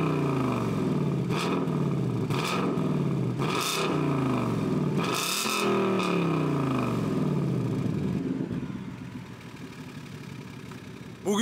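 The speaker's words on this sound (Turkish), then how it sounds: "Son olarak egzoz sesini size duyurmak istiyorum şimdi." Exhaust note of a 5-litre V8 car, revved repeatedly: several rising and falling engine sweeps, loud and close, before settling into a quieter idle near the end.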